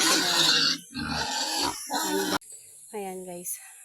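Pigs on a farm grunt and squeal around feeding time, close and fairly loud, with a person talking over them.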